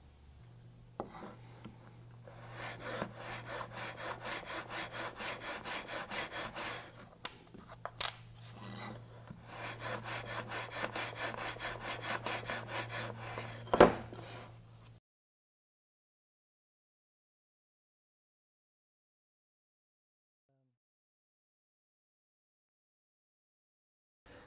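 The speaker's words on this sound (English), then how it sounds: "So before I glue up my spacer, I want to chamfer the top two edges." Rhythmic rasping strokes of a hand tool chamfering the top edges of a small wooden spacer, two steady bursts of filing close by, then a sharp knock and silence.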